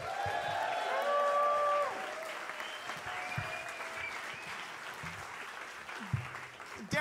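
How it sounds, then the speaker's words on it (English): A comedy show audience gives the bartender a round of applause, soft and fairly distant, fading after a couple of seconds while tonal sounds and murmuring carry on beneath. "Can we get a little round of applause for your bartender,"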